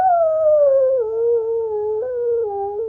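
A person imitates a wolf howl with the voice, one long wavering tone sliding slowly downward with slight breaks, close and clear without other sounds.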